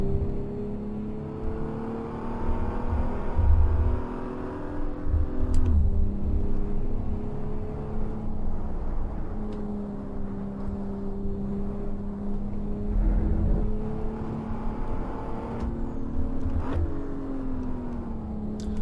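A BMW Z4 sports car engine in a racing game drones steadily and close, with pitch climbing and then dropping sharply at each downshift, rising again after every shift.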